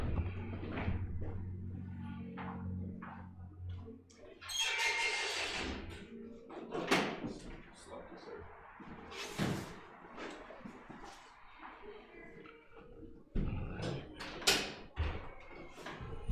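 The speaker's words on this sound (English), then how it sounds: "Hit the door real quick." An indoor door is shut during a Sabbath church service, giving a single solid thump amid the room's ambience, with people speaking around it.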